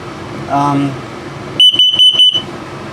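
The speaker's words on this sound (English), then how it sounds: "This is your carbon monoxide LP gas detector." A carbon monoxide and LP gas detector alarm in a 2022 Flagstaff E-Pro 19FBS RV sounds during a test: four rapid, loud, shrill electronic beeps close by, following a brief voice.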